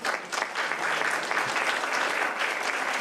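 Sustained applause from an audience at a New York City Law Department award ceremony, steady and dense clapping filling the room throughout without a break.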